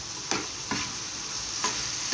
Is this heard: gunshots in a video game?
no